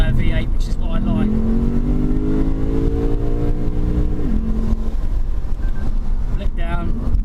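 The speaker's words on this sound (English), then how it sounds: "it's a really revy V8, which is what I like" The 2017 Lexus RC F's V8 engine revs up loud and close, a rising tonal drone that climbs and then dips under heavy wind buffeting, with brief speech at the start and end.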